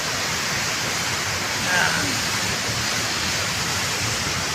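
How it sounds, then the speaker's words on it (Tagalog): Water from a fountain beneath the Magallanes overpass, a constant loud hissing splash with a short spoken word partway through. "Ayan, oh, may fountain."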